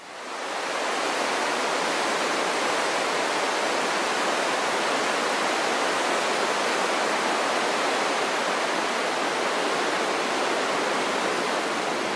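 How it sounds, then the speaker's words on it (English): Tidal water rushes steadily through the horizontal waterfall at Talbot Bay, Australia, a loud, continuous broadband roar of churning current that holds unbroken for the whole stretch with no voices. "this horizontal waterfall here at Talbot Bay would be one of Australia's greatest natural wonders"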